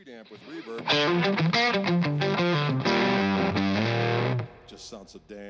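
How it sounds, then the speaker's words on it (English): Electric guitar played through a tweed-style amp channel with reverb, a warm, slightly driven phrase of sustained notes and chords ringing out, then a brief pick scrape and a reverb tail. "Second channel is more like a tweed amp with reverb."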